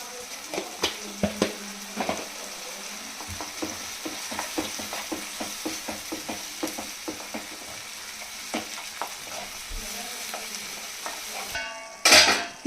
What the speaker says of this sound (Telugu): హై ఫ్లేమ్లోనే కొంచెం మంచిగా ఫ్రై చేసుకోవాలి.